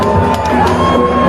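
Stadium crowd at a high-scoring T20 cricket match, a dense roar of cheering and whoops with music from a DJ blending in, loud and continuous throughout.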